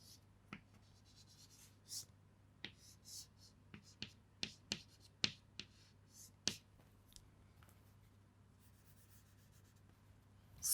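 A pen drawn by hand across paper sketches a variable resistor (rheostat) circuit symbol, making a sparse series of short, quiet scratching strokes and taps with pauses between them and no talking.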